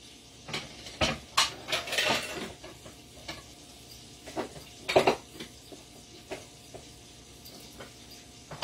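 A pile of dishes, pots and pans being washed, with scattered clinks, clatters and knocks of crockery and cutlery close by, in irregular bursts with quiet gaps between.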